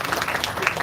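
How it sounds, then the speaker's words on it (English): A brief, dense burst of audience applause for participants at an academic research conclave, a steady wash of many hands clapping together at close range. "A huge round of applause for all the bright participants here"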